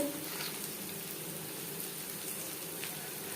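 Chopped onions frying in a small amount of oil in a pan while cooking katla kalia, a fish curry, making a faint, steady, even sizzle that carries on without a break.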